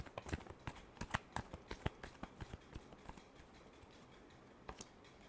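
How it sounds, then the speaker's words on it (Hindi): Tarot cards being shuffled close by, a quick run of crisp flicking riffles and taps that slows and ends with a couple of soft final snaps, quiet overall. "Last shuffle."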